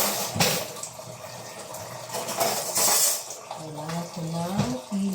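Water running from a tap to collect in a container, a steady splashing flow with a brief voice and a few clatters over it.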